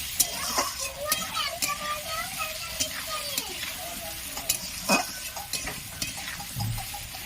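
Spices with salt and cumin powder fry in a pan with a steady sizzle, and a utensil stirs it with sharp scrapes and taps. Faint voices can be heard in the background.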